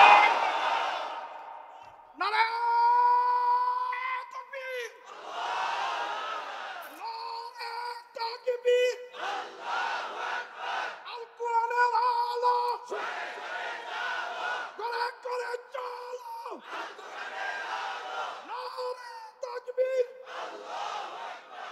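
At an outdoor waz gathering in Daudkandi, a large crowd chants Allahu Akbar in loud, repeated rounds, each a long sustained group shout with short gaps between, rising and falling over about twenty seconds.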